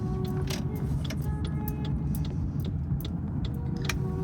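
A car driving down the road to a gym, steady engine and road rumble throughout with faint ticking and jangling keys inside the cabin, no talk.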